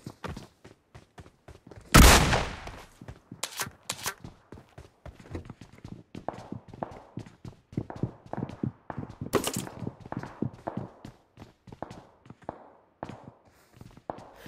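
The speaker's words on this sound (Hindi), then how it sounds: "यहाँ पे मेरे को एक बंदे के फुटस्टेप आते हैं" Rapid, crisp footsteps of an enemy player in PUBG Mobile patter steadily nearby, with a sharp gunshot-like burst early and a couple of louder thuds among the steps.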